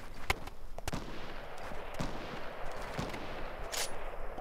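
Sharp sniper rifle shots ring out in a Fortnite Mobile match, with a few distinct cracks standing out over busy, continuous game noise and a brighter burst near the end.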